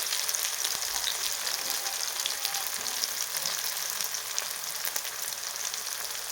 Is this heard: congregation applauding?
no